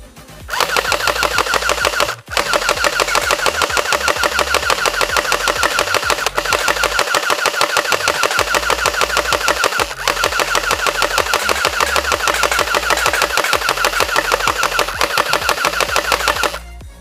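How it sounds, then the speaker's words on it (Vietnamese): AWM/M249 gel blaster toy gun firing in full-auto mode, a loud, continuous rapid mechanical rattle held for long stretches with two brief pauses. "Tôi sẽ bắn chế độ auto nhá"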